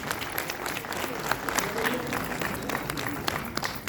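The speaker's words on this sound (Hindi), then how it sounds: "कृपया जोरदार तालियों से अभिनंदन करें।" Applause at a retirement ceremony, a moderately loud crowd clapping with distinct individual claps standing out over the steady patter, continuing evenly and fading slightly at the end.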